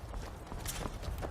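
In Skyrim, a horse's hooves patter in a quick, muffled run of soft thuds across a brief moment, close and moderately loud, with no speech.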